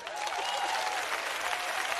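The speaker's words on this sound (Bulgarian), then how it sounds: "Аплодисменти за Таркан." A studio audience applauds for a Tarkan impersonation on a television show, a steady, even wash of many hands clapping at moderate distance.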